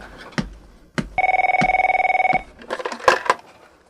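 A telephone bell rings in one long burst of rapid, evenly pulsed trilling, loud and close, with scattered knocks and clatter before and after it.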